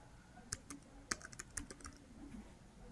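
Someone types on a computer keyboard: a quiet, irregular run of about a dozen sharp key taps over a few seconds, with no talk.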